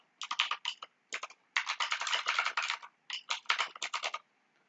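Bursts of fast typing on a computer keyboard while writing C code, close and crisp clicking in several quick runs separated by short pauses.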